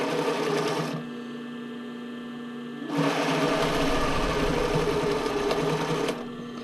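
A sewing machine stitches sports bra seams in two loud steady whirring runs separated by a quieter pause of about two seconds, close and alone without talk.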